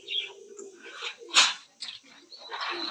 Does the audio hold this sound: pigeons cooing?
yes